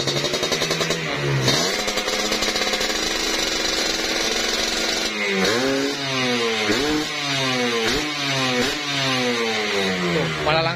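A Kawasaki Ninja two-stroke motorcycle engine, freshly fitted with an oversize block, revs hard and repeatedly, each blip climbing and falling in a rapid buzzing cycle, loud and close throughout.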